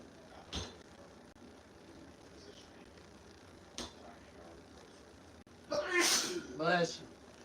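A single loud, close sneeze bursts out near the end, preceded by quieter breathy sounds and faint movement noise.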